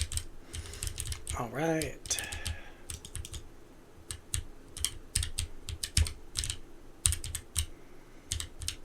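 Typing on a Keychron K3 V2 keyboard, rapid irregular hollow key clicks pounded out close up, with a brief spoken word near the start.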